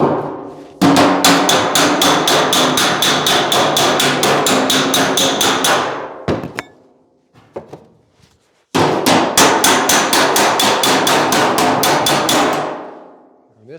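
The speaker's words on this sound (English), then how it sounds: "just want full control using a manual hammer and dolly method here" Rapid, steady manual hammer blows ringing on a welded, warped sheet-metal panel against a dolly, a long even run, a brief pause with a few scattered taps, then another sustained burst of quick strikes.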